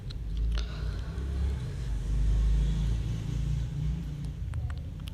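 A vehicle engine in the PUBG video game gives a steady, low, rumbling drone that swells slightly in the middle and holds close and fairly loud throughout.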